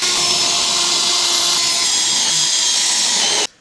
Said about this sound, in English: I just got to drill through the frame into this and then tap that for a bolt